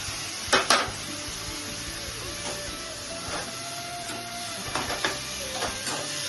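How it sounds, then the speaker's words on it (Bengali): Spice paste with onion, cardamom and cloves frying in hot oil: a continuous, close sizzle with scattered scrapes and taps of a spoon stirring in the pan. "এভাবে সব একসাথে ভেজে নিচ্ছি।"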